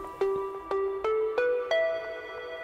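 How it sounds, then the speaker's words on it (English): Deepin Linux 20.1 boot-up sound: a bright synthetic chime of about five plucked notes stepping upward over roughly two seconds, each ringing into the next, clear and alone. "They have pretty cool sound effects, especially like boot up."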